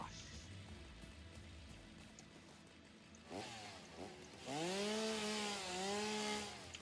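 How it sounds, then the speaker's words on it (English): Chainsaw revving and cutting in the video game Satisfactory, starting quietly then rising into loud, sustained engine whines with pitch sweeps as the saw bites, alone without talk. "Time to go hog wild with the chainsaw."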